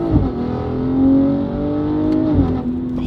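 BMW G42 M240i with an upgraded Valvetronic Designs exhaust revving loud and close, a continuous deep roar rising and falling through a long pull with a brief throttle change near the end.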